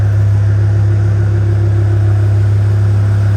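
A BMW E60 M5 engine idles steadily while warming up, a loud, constant low hum with a smooth, even drone and no revving, running alone without talk.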